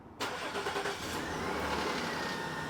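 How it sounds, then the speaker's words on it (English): A car engine fired by a Viper 5305V remote start catches abruptly after a brief hush, then settles into a steady, close, continuous idle with no one talking. "If we hold this button right here, or just press it one time, it'll start the vehicle."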